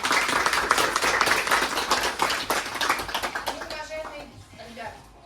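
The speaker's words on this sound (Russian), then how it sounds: "также аплодисменты нашим коллегам" School graduation crowd handing out diplomas claps in a brisk burst, close and fairly loud, tapering off near the end as a voice begins speaking.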